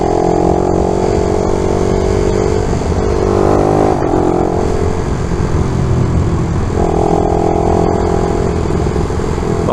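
A Honda GTR 150 motorcycle with a 62mm kit revs hard and loud right up close, its engine note climbing and dropping in pitch with a brief pause in the throttle, then swelling again.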